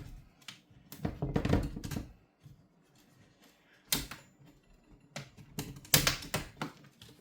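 Plastic clicks and snaps as the bottom case of an MSI Thin GF63 12VE laptop is pried open, a cluster of close, sharp cracks followed by two more isolated bursts after quiet pauses.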